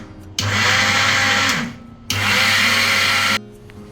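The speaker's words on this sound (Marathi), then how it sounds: "मी ही ग्राइंडरवर पल्स मोडवर ठेवून ही ग्राइंड केलेली आहे" A kitchen mixer grinder on pulse mode grinds homemade protein powder in two loud, whirring pulses of about a second and a half each, separated by a short pause, close up and with no voices.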